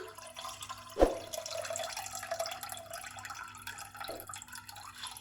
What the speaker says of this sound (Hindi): ये मैं पानी इसके अंदर शिफ्ट कर दूंगी।